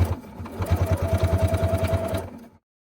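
Sewing machine stitching through a quilted fabric coaster made from charm squares, a steady rapid needle chatter lasting about two and a half seconds, close and loud, then stopping abruptly into silence.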